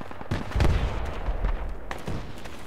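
Grenades explode in the game Project Reality, a few heavy, booming detonations spread over a couple of seconds. They sound moderately distant, with rumbling low-end tails and no talking over them.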